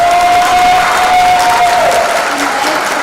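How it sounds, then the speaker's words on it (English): Audience applause fills a high school graduation ceremony in Denver, a loud, steady wash of many hands clapping with a faint crowd murmur and a thin sustained tone running underneath. "please help me in giving a very big round of applause to our amazing faculty"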